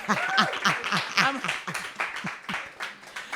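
Audience at a live comedy show in New York clapping and chuckling while a comedian keeps talking over it, the claps steady and close, mixed with scattered laughter.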